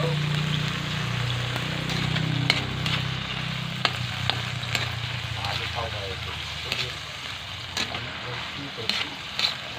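Galunggong fish and river shrimp frying in a pan for breakfast, a steady loud oil sizzle with scattered pops and spatters throughout, close by. A voice can be heard faintly underneath.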